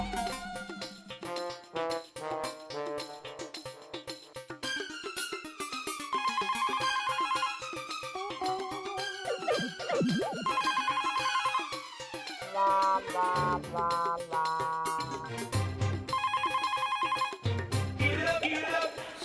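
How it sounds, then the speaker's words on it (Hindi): A telephone rings on and on with no one answering, its repeated electronic tune sounding over a steady musical background. "नटू काका, मेरा घर पे फोन लगाना तो।"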